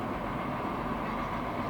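A pair of SD40-2 diesel locomotives haul a train past at close range, a loud, steady rumbling roar of engines and rolling wheels with no pauses.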